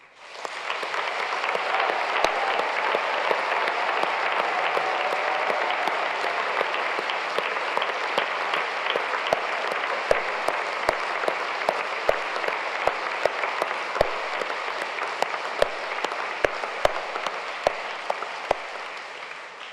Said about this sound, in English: can I please ask you to applaud your achievements and that of all your fellow graduates?